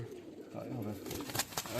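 Kept racing pigeons coo softly nearby in low, rolling murmurs, with people talking over them.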